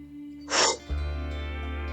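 One deep breath during a yoga class, a soft airy inhale swelling for a moment then easing out, close to the microphone and alone over a steady low hum.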